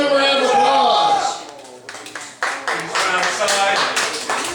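Audience at a stage variety show claps to welcome a performer, a voice speaking first and then a burst of uneven, moderately close clapping continuing to the end.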